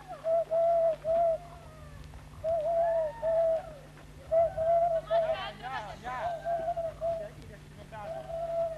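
A person imitates an owl call with a voice, giving repeated soft hooting coos in short phrases, with chatter in between.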